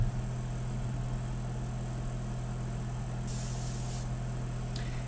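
An airbrush gives a quick test spray of India ink off to the side, a short hissing burst near the middle followed by a faint brief puff, over a low steady hum of a compressor or room noise.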